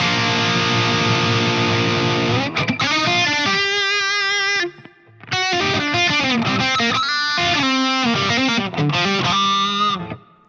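Distorted Yamaha Pacifica Standard Plus electric guitar strums loud, ringing chords and riffs with a spacious reverb tail, pausing briefly midway before continuing.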